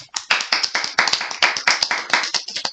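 A group of people clap their hands together in a steady, fairly quick rhythm, sharp repeated claps filling a small room with no talk over them.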